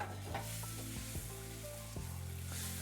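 Onions fry in a pan with a steady, close sizzle and crackle, and a few soft clanks of a utensil stirring, with no talk.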